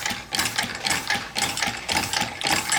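A small steam engine fitted with a new large stainless valve, running on about 5 pounds of pressure, chuffs and clatters in a steady mechanical rhythm, close and moderately loud, with no talk.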